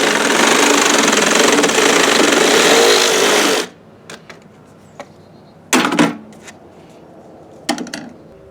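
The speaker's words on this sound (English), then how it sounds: "This stuff cuts through really quick with a Sawzall." A Sawzall reciprocating saw with an aggressive blade cuts a plastic tractor PTO shaft tube in a loud, harsh burst of about three and a half seconds. A few short knocks and clatters follow in the quiet.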